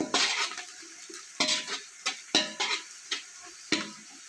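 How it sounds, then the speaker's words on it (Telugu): Ingredients for a chicken pulao fry in a pan while being stirred until golden brown, giving a sizzling hiss broken by a series of scraping, knocking stirs close up. "ఇవి మంచిగా గోల్డెన్ బ్రౌన్ కలర్ వచ్చే వరకు ఫ్రై చేసుకుందాము"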